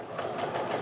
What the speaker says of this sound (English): I still have my sewing machine set up to sew that scant 1/4 inch stitch